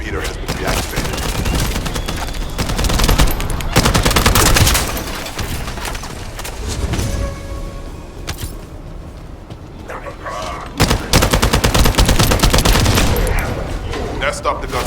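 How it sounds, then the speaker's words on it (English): Bursts of rapid video game gunfire and explosive booms crowd the scene, loud and close, easing briefly midway before another heavy volley erupts. "That stopped the gunfire."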